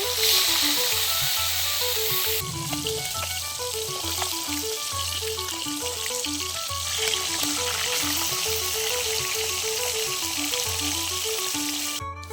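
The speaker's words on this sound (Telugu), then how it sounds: "చూడండి వేగిపోయినాయండి, ఎర్రగా వేపుకున్నాను" Fish pieces deep-frying in hot oil for fish pickle give a loud, continuous hissing sizzle close by, steady throughout and ending abruptly, while a looping melodic tune plays underneath.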